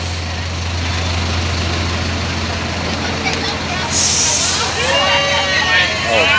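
A powerful truck engine idles steadily with a low constant hum and rumble, carrying on throughout under outdoor street noise and people talking nearby.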